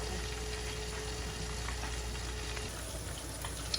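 Garlic and onion frying in a pan, a steady low sizzle and bubbling hiss continuing evenly throughout, fairly quiet and close.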